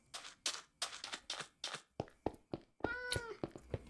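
Cat meows in Minecraft: a rapid run of short, clear mews, about a dozen, close and fairly quiet, repeating in a steady rhythm with no talking.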